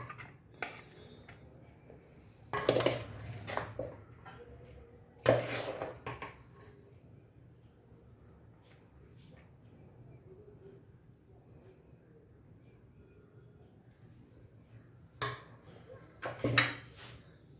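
Vegetable pulao is served onto a plate with metal utensils, giving a few sharp clinks and scrapes spaced apart against a quiet room background.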